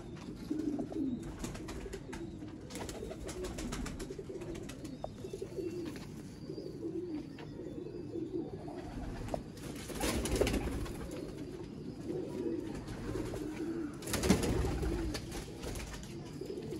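Pigeons coo softly and repeatedly against a faint background rustle, with a few louder bursts of cooing partway through.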